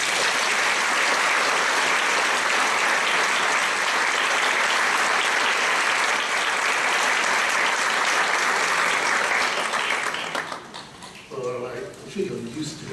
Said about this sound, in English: You're used to hearing this sort of applause and much more.